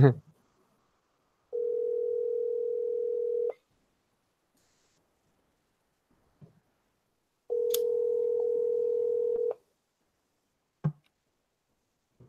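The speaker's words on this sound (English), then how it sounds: "It's ringing." Two long electronic ringback tones on a phone line, each about two seconds, separated by silence with a few faint clicks.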